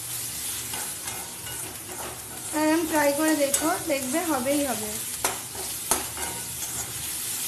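Onions browning in a little oil with salt and a pinch of turmeric, sizzling steadily while a utensil stirs and scrapes the pan, with a voice speaking over the cooking in the middle.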